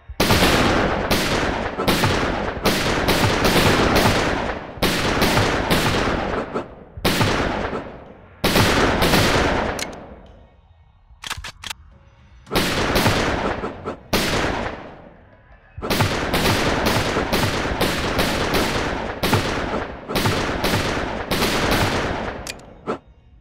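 Rifle gunfire in the PSVR2 shooter Operation Serpens: loud, close shots fired in rapid bursts and strings, separated by short pauses, with no talking.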